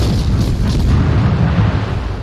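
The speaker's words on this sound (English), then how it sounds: "Now he got hit by torpedoes." Loud, continuous deep rumbling booms fill the space as torpedoes strike and explode against a ship in World of Warships, a dense sustained low roar with no pauses.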